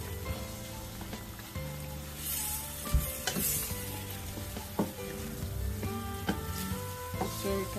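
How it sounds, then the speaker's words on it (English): Nigerian meat pie filling sauce is stirred in a pan, with a soft continuous sizzle under repeated scraping and clinking strokes of the spoon. Background music plays faintly throughout. "So now we are going to stir."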